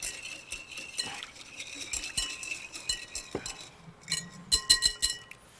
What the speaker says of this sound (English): Then whisk in extra virgin olive oil. I'm using a Spanish oil.